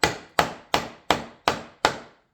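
A hammer drives a chisel into wood to cut a bow tie joint, landing six sharp, evenly spaced taps close by, each ringing briefly before the next.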